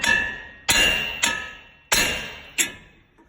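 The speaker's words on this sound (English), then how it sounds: "big hammer hitting it right here will vibrate that tie rod right out of there." Four sharp metallic clangs of a big hammer striking a tie rod on a 2005 Ford F-150 FX4, irregularly spaced, each ringing briefly before fading; loud and close.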